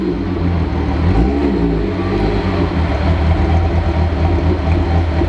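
A Volkswagen VR6 engine revs loudly and steadily nearby, a deep rumbling roar with a brief rise in pitch, no voices.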